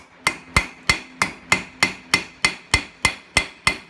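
A rounding hammer strikes a metal key ring being tapered, landing twelve sharp, ringing blows at an even, brisk pace, each one loud and close with a short metallic decay.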